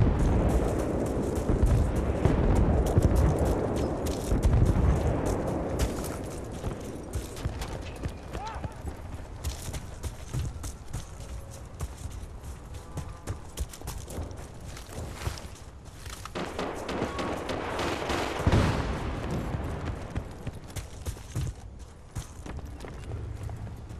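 Explosions and gunfire from an online squad deathmatch in Battlefield Bad Company 2 on PS3, a dense, loud, continuous barrage of blasts and shots with heavy low rumble, under someone talking over it.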